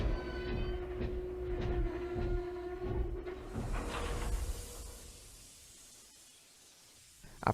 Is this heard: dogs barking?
no